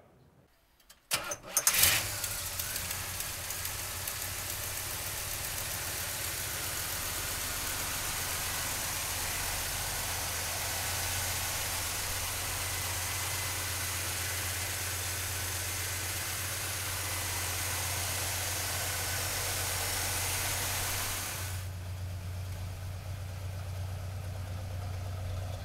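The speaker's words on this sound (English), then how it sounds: "let's fire this big block up" A 1970 Chevrolet Chevelle with a 454 big block V8 cranks briefly and fires, then settles into a steady, rumbling idle heard up close for about twenty seconds before a sudden drop in level near the end.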